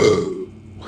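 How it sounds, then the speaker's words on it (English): A loud, close burp after drinking Bud Light hard seltzer, a single gravelly belch lasting just under a second that fades into quiet breathing. "Remember what I said about the burps."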